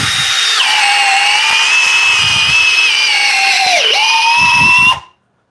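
A Milwaukee cordless drill runs steadily at its highest speed setting, a loud, sustained high whine that dips in pitch briefly under load near the end before cutting off abruptly.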